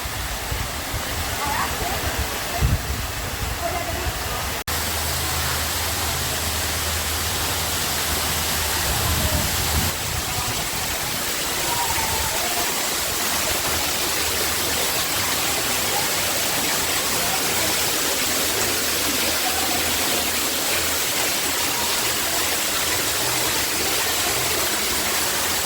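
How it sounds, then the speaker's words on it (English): Water pours steadily into a natural swimming pool at a waterfall in the Dominican Republic, a loud, continuous broadband roar that stays even and close throughout, with faint voices now and then beneath it. "There's Liam in the waterfall"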